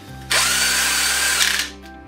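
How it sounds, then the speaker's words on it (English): A power drill whirs steadily for about a second and a half tightening a strut on a wheel assembly, loud and close, with a brief ratcheting click near the end before winding down; no talk. "this can be done with a regular wrench or a drill"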